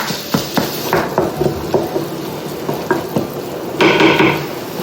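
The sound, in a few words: meat frying and being stirred in a pan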